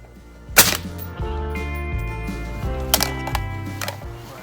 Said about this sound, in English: So all of us took some turns shooting and just making sure our rifles were properly